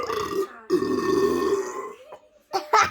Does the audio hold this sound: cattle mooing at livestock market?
no